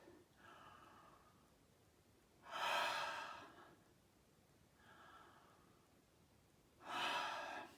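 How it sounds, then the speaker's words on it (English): Slow, deep breaths during a relaxation exercise: two full cycles, each a softer inhale followed by a longer, louder exhale, close and quiet with no talking. "Take a couple of slow breaths."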